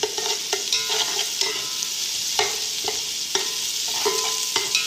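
Garlic fries in a pan with a steady sizzle, broken by a few sharp spoon-against-pan scrapes from stirring, close and fairly loud, with nobody speaking.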